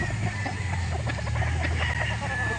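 Chickens cluck in short, overlapping bursts at a poultry sale in Calauan, a busy flock murmuring continuously over a low background rumble, fairly close and steady throughout.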